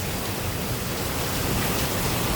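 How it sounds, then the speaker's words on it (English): Heavy downpour pouring steadily outdoors, a dense, even broadband hiss that stays loud and unbroken throughout, with no voices. "It is pouring."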